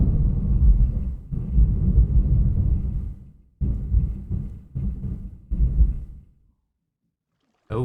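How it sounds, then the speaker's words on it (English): Thunder from a Minecraft storm rolls in heavy, booming bursts: a long deep rumble followed by several shorter cracking rolls that fade to silence. "That was a big thunderclap. That was very big. It might start storming."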